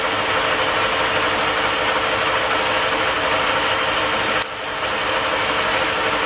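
The inboard V-drive engine of a 1998 Doral 300 SC boat idles steadily with a constant broadband hum and rumble, briefly dipping once before resuming.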